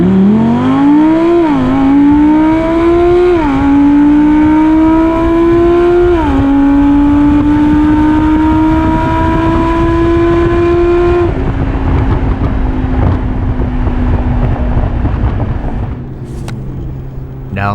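A stock Audi R8 V10 in Sport Auto mode accelerates hard, engine climbing in pitch through several quick gear shifts with short dips between them, then settling into a steadier drone near the end.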